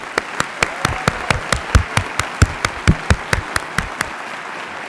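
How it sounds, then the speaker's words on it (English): Steady, rhythmic clapping at a University of Michigan College of Pharmacy PharmD commencement ceremony, with sharp, evenly spaced claps ringing close and clear for several seconds. "Please join me in giving Hilda and the College of Pharmacy staff a huge round of applause."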